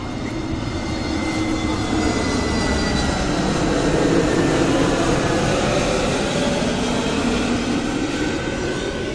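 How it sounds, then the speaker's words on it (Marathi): An airplane passes overhead near an airport in Goa, a loud continuous roar of engines that swells slightly in the middle and holds steady throughout, with no voices. "हा बघा प्लेन."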